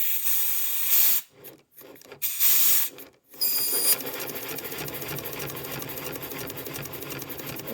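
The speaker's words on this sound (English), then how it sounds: "now if I use my shop air to put some air into the Goodall valve," Accucraft K-36 model locomotive run on shop compressed air, with loud bursts of hissing air cut by short gaps, then a steady rapid mechanical chatter and hiss of the running mechanism.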